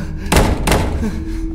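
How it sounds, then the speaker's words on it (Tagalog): Two heavy knocks thud on a door in a video game, close and loud, followed by a low lingering hum. "May kumakatok."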